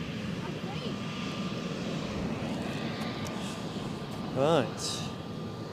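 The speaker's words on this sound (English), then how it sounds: "Inbound ATR 72 from Dublin." ATR 72 turboprop inbound from Dublin to Edinburgh Airport, a steady distant engine drone with a faint tonal hum, under a brief spoken word and a short chirping sound near the end.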